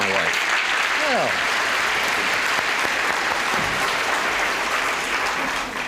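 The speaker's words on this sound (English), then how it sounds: "nice to hear a police officer applauded there" Studio audience of a 1973 game show applauding a Los Angeles police officer contestant, a dense steady wash of clapping that stays loud throughout, with a voice talking briefly underneath near the start.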